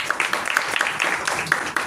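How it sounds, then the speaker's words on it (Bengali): Scattered hand-clapping from a small audience at a student gathering rises and falls in quick uneven claps, moderately close and fairly light. "ওনাদের জন্য একটু হাততালি"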